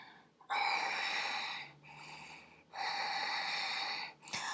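Long audible breaths drawn in and pushed out during a Pilates mat exercise, three drawn-out airy exhalations in sequence, close and fairly quiet, with no speech over them.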